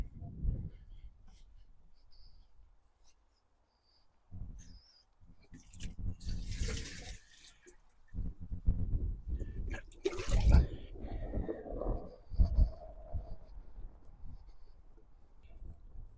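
Water poured from a watering can splashes onto soil where carrots were planted in an allotment, coming in uneven gushes and trickles with quiet pauses between pourings.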